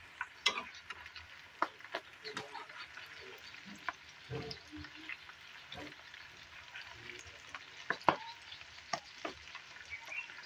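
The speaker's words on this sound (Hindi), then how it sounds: "तेज आंच पर हम फ्राई कर लेते हैं" A breakfast snack fries over a high flame with a quiet, crackling sizzle, broken by scattered sharp pops and ticks at an irregular pace.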